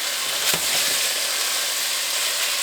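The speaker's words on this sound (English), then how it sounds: "We're going to go ahead and sweat those down." Chopped onions sweat in olive oil in an enamel pot for a BBQ sauce, giving a steady, dense sizzle with one brief clink of a utensil near the start.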